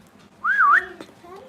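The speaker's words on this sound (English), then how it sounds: "Can you whistle?" One person whistles a single short, clear rising and falling tone up close, followed by faint murmuring in the background.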